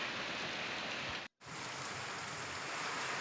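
Heavy rain pouring down in Chhota Udepur district, Gujarat, a dense, even wash of noise at moderate distance with one brief dropout and no voices.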